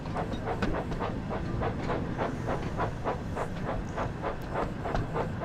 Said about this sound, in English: Just watching steam trains